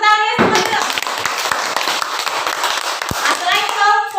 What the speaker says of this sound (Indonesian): Coba tepuk tangannya semuanya.